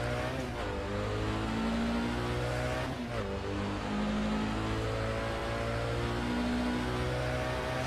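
A historic Chevron sportscar engine in the racing game Assetto Corsa drones steadily at high revs at Le Mans, its tone shifting as it changes gear, loud and continuous with no talking.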